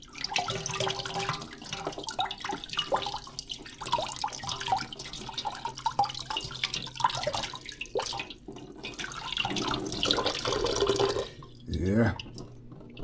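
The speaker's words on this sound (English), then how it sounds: "Let's just rinse these off, chop them up and throw them in the pot." Pumpkin and peas are rinsed under a running kitchen tap, a steady close splash with drips and shifting water as the food is turned, interrupted by a brief pause and clatter.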